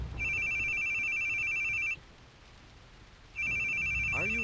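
A phone rings in the video game The Boogie Man, a loud electronic trill repeating in two long bursts with a brief quiet gap between, close and clear with no voices over it.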